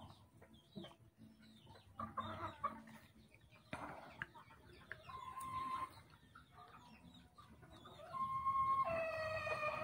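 Several chickens cluck and murmur nearby as they eat, with occasional louder squawks and pecking sounds, growing busier toward the end.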